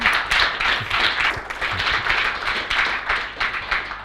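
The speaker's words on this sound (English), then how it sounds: "Big round of applause for Evan, please." A room full of people clapping after a talk on machine learning, a dense patter of hands that swells and dips slightly throughout, fairly loud with no talking over it.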